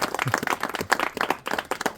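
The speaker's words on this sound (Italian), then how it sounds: "E poi un applauso perché lo merita" Audience applause for a sculptor at an Italian gathering about a walnut tree being brought back to life: a short burst of hand clapping, close and fairly loud, with uneven individual claps and no talk.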